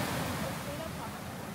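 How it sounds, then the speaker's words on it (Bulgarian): Waves breaking on a beach in Lefkada at sunset: a soft, continuous wash of surf noise, faint and steady, with a quiet murmur of voices in the background. "докато слушаме вълните как се разбиват"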